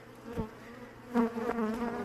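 Honeybees at an open hive in autumn buzz close by, a steady droning hum that swells in short surges, with no voices.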